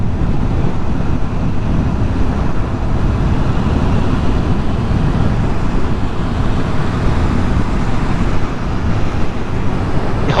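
Road traffic noise from a motorbike ride on BMW S1000R and M1000R bikes: continuous loud roar of passing vehicles and rushing wind, dense and unbroken throughout, with no talk.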